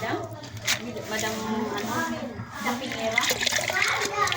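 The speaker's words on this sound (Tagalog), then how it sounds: "Hugasan natin ang ating togi" Mung bean sprouts being rinsed by hand in water, with steady splashing and sloshing close by under continuous talk and children's voices.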